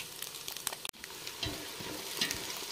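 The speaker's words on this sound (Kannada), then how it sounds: "ಇವಾಗ ಚಲೋ ಫ್ರೈ ಆಗತ್ತೈತೆ ರೀ ಉಳ್ಳಾಗಡ್ಡಿದು" Chopped onion sizzles and fries steadily in hot oil in a pan while cooking egg dum biryani with basmati rice, with a few stirring scrapes and no talking.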